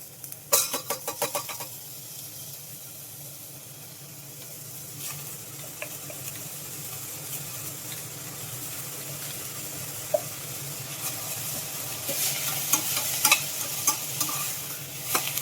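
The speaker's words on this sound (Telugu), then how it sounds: "ఈ ఉల్లిపాయ ముక్కలు కూడా వేసేద్దాం" Chopped onion pieces land in a hot pan with a burst of clatter, then fry with a steady crackling sizzle. A spoon scrapes and taps now and then, close by and without speech.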